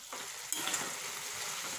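Butter being stirred into broccoli masala in a hot pan, a soft continuous sizzle with a couple of scraping spoon strokes, close up and moderately quiet, with no talking.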